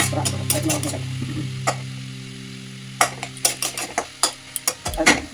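Pan being covered with a lid while cooking a vegetable chop mixture: a steady hum, then a string of sharp metallic clinks and knocks close by.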